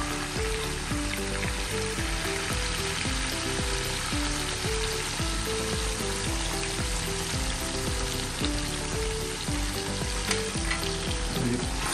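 Chicken fries with nihari masala in a pan, giving a loud, continuous sizzle with a steady scraping rhythm of stirring underneath, close and without voices.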